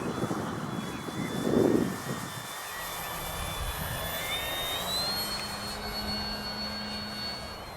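An FMS Kingfisher RC model plane buzzes overhead in flight, a steady high-pitched electric whine with shifting tones, faint against wind noise.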